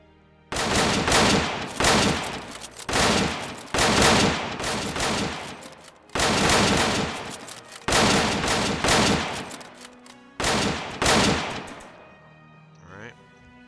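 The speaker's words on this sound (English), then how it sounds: "If you're all firing 5 rounds at the same exact time, you can all step down collectively." Volleys of rifle fire ring out in a video game, about eight loud, sharp bursts spaced roughly a second or so apart, each firing together with a brief decaying echo, before the shooting stops and the scene goes quiet.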